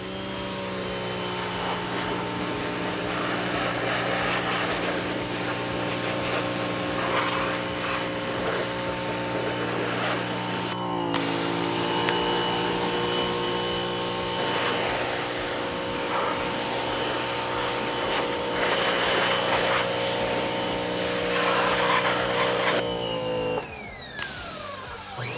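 Giraffe Tools pressure washer motor droning steadily at close range while rinsing an e-bike, a continuous whine with a brief cut near the middle and the pitch falling away at the end; nobody talks.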